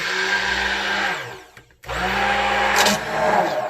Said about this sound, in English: so now we blend